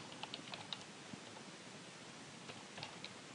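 Faint, scattered keystrokes tapped on a computer keyboard, sparse and irregular over a steady background hiss, with no talk.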